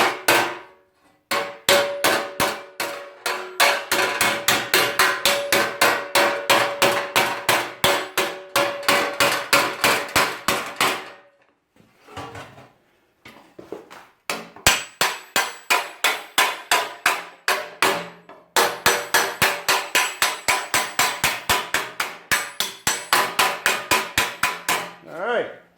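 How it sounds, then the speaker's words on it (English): A hammer strikes sheet metal in rapid, rhythmic bursts of clanging blows, forming an outer wheelhouse extension on a 1965 Ford Thunderbird, with short pauses between series and a few scattered taps in the gaps. "I'm just going to try to hammer form that around a little bit."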